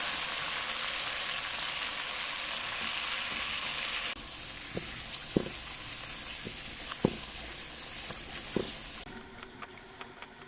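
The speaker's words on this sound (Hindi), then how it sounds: "चिकन ऐड करेंगे। चिकन की अच्छी तरह से भुनाई करेंगे हम।" Chicken browning in a pot with fried onions for aloo gosht korma, a steady loud sizzle that drops to a softer crackle, broken by several sharp spoon knocks against the pot, no voices.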